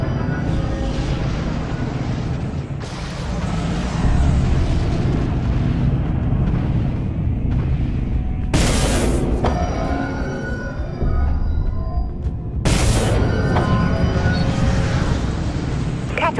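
Artillery strike explosions in the space combat game Dreadnought: two sudden, loud booming blasts burst out over a steady rumbling engine drone, the second arriving a few seconds after the first.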